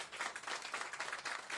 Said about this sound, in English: Give Mia a round of applause for sharing her testimony today